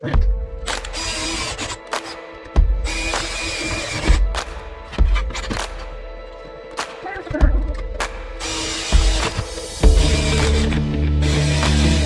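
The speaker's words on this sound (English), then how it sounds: "I guess it's time to do some drilling because we got some rivets." A power drill whirs in repeated short bursts, starting and stopping in a loose rhythm as rivets are drilled out of an AC/DC power converter, close and fairly loud.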